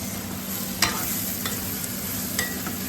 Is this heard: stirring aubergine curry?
yes